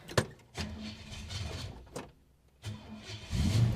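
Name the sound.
Holden HK 253 V8 engine cranking and starting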